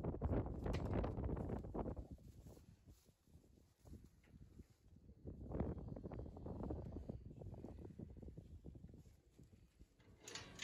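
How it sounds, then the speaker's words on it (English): Gusty wind buffets a farmyard, surging and easing in loud, broad rumbling waves against the microphone, with occasional knocks and rattles, no talking. "You can probably hear how windy it is"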